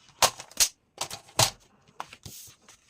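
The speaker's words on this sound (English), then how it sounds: "I'm going to cut this" Scissors cutting a paper flap just shy of 4 inches for a scored paper craft project, heard as several crisp, close snips in an irregular rhythm with short pauses between them.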